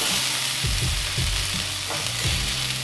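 Cut peppers laid down on a hot Blackstone griddle sizzle loudly and close, with a dense steady hiss and several low thumps and scrapes as they hit the surface, no speech.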